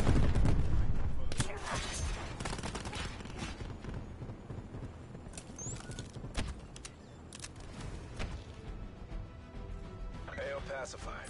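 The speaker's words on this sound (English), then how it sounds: "Incoming cluster grenade." Cluster grenade blasts in Call of Duty Black Ops 4, a heavy opening boom followed by rolling bursts of gunfire and repeated explosive cracks that stay loud and dense throughout.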